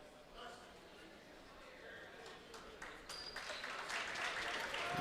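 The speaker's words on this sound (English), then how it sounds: "A round of applause for Carson Orheim." Crowd applause in a gym during a WIAA high school basketball game at the Cranberry Classic, building gradually and growing louder toward the end, with faint announcer talk over it.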